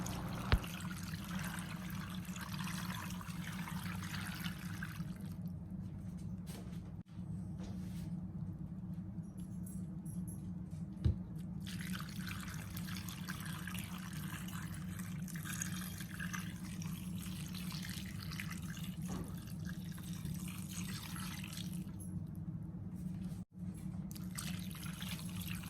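Tap water pours steadily into a stock pot for boiling green peanuts, a constant rushing wash that runs without a break, with faint clinks now and then.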